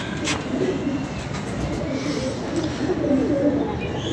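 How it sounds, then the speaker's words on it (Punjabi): A pigeon cooing close by in a rooftop pigeon-keeping setting, soft rolling coos repeating under a steady background hum, with a brief sharp knock near the start. "ਲੋ ਜੀ ਅੱਛਾ ਕਬੂਤਰ ਹੈ"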